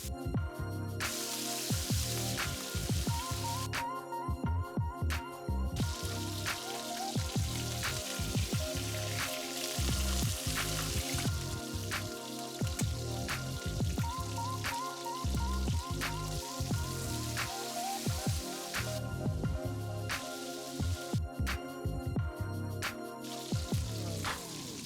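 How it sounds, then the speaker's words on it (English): Lamb cutlets frying in a pan, a dense, continuous crackle and spatter of hot fat that holds steady and close throughout, with no voices. "I fry 5 cutlets the same way."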